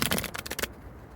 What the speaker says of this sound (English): a lot of people don't like to shuffle like that when it comes to tarot